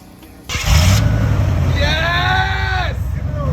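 A Ford Bronco with a new exhaust starts up and revs loudly nearby, settling into a steady rumbling idle while excited voices shout and talk over it.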